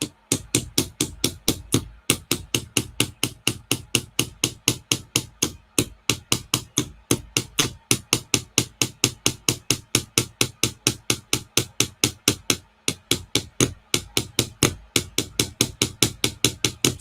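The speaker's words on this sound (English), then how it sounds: "Such a wee hammer. I'm missing now and again, but yeah, it's working." A small hammer taps pieces of a Ugears VM-02 wooden bike model in a steady, rapid series of sharp close knocks with brief pauses, continuing throughout.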